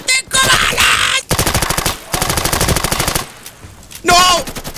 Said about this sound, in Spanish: Me están disparando por todos lados.